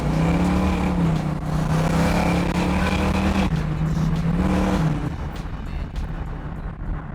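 A powerful 500-horsepower Chevrolet Chevelle SS engine roars and revs, its pitch climbing and dropping through gears, then fading off into quieter road noise.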